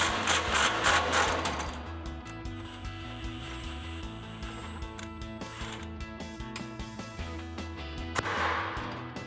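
An impact wrench with a 19mm socket and extension hammers at a through bolt on a Toyota Tacoma suspension during a lift install. Loud rattling bursts come at the start and again near the end, with a steady mechanical drone in between.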